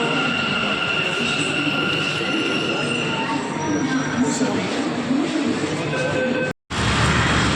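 Bangalore metro train running, a loud continuous rumble of wheels on rails with high squealing tones, heard from inside with a brief dropout near the end.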